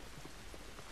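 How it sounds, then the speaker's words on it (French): Steady rain pattering on surfaces in The Last of Us video game, a constant dense hiss of drops throughout, moderately loud with no talking. "Cette pluie ne va pas nous aider."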